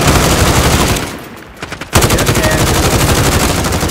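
Loud, rapid automatic gunfire in the shooter game Modern Warfare, a dense burst that briefly stops, followed by a few single shots and then another sustained stream of fire.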